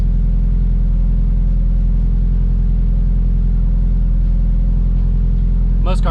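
A high-mileage turbocharged Acura RSX pulls in 4th gear on a hub dyno, its engine droning loud and steady throughout with a rising whine briefly near the end.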